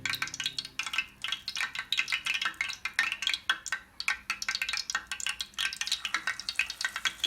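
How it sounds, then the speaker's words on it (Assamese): Maggi noodle pakora batter frying in hot oil in a pan on a gas stove, a steady close sizzle broken by repeated stirring and scraping clinks of utensil against pan, with no voices. "এতিয়া গেছত এটা পেন বহাই দিছো তাত তেল দি দিছো অলপ এই তেল গৰম হোৱাত এটা এটাকে গুটেখিনি দি দিম"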